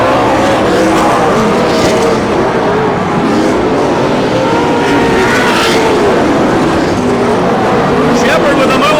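Dirt track race cars at the Bakersfield, California Dirt Track Nationals roar continuously on the restart, engines droning loud and steady with a trackside announcer talking over the whole stretch.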